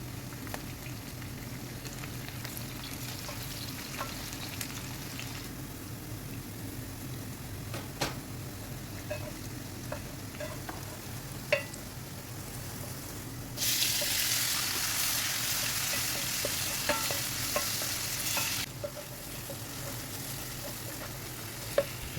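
Potato, long beans and okra stir-fry in a pan with a steady sizzle, scraped by a utensil at scattered moments; the frying grows louder and brighter partway through, then settles back down, with no talking.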